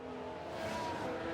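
A Ferrari Formula 1 car's engine in the F1 Manager 2022 racing game drones with a steady, buzzing whine at moderate level, holding fairly constant throughout with no voices over it.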